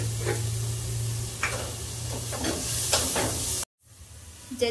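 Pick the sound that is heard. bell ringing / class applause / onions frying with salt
onions frying with salt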